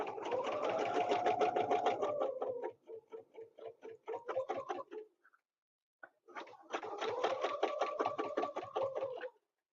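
A sewing machine stitches a quilt along a ruler template in quick, even bursts of rhythmic ticking needle strokes, pausing briefly mid-way and then resuming, fairly quiet and close with no talking.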